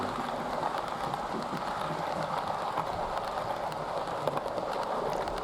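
Model train of the down Flying Scotsman running past on a layout, a steady dense rumbling roll with faint rail clicks held at an even, fairly loud level throughout, with no voices.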